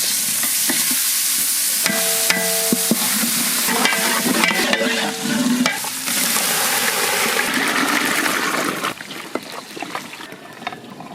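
Ginger and cumin fry together in hot oil for a fish head dal, giving a steady close sizzle broken by repeated metal clinks and scrapes of a spoon stirring the pan.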